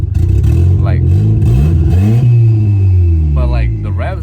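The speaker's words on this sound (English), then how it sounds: "you can hear the turbo spooling up, but it doesn't spool the whole way how it's supposed to. There is some lag when I rev it" A turbocharged Honda D-series engine revs repeatedly, its pitch sweeping up and falling back as the turbo spools with noticeable lag. Loud and close, with someone talking over the engine.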